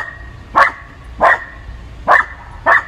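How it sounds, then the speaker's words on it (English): A dog barking at its own reflection outdoors, four loud, evenly spaced barks close to the listener over a low background hum. "Interrupting my video with all that damn barking."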